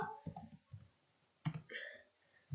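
Keys on a computer keyboard clicked while typing a command into a MySQL console, heard as a handful of separate, close taps spaced irregularly over a couple of seconds, with quiet gaps between them.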